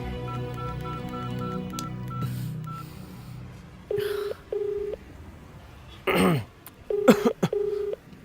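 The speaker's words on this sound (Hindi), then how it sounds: "अब्दुल की माँ को फोन लगा।" Telephone keypad dialing a call, a series of distinct touch-tone beeps in short separate bursts, close and clear, mixed with coughs and throat clearing.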